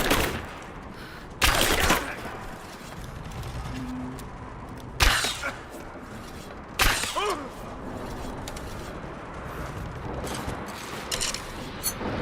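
Gunfire crackles through a firefight in Rise of the Tomb Raider, with several loud sharp bursts standing out over a steady rumble of combat and clattering debris.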